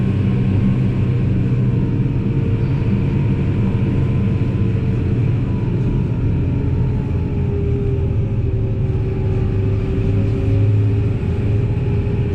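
A Kubota M7173 tractor engine drones steadily while the tractor drives along, a loud, continuous low rumble with a sustained hum and no pauses.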